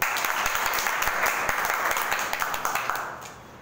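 An audience at a business seminar on IMC products claps together in a busy, crackling burst that holds steady, then tapers off over the last half second.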